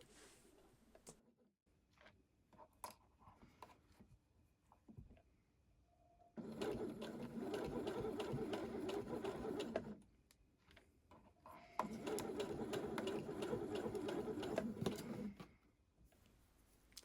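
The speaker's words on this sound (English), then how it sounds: "I literally just used the edge of the presser foot to guide the stitches" A domestic sewing machine stitches a T-shirt sleeve cuff in two steady whirring runs of several seconds each, guided along the presser foot edge, with quiet handling noises before and between runs.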